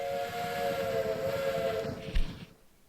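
Dairy train rolling through in the railway management game Railway Empire 2, with a sustained multi-tone whistle over a dense rumbling rail bed, closing on a brief clunk before fading out.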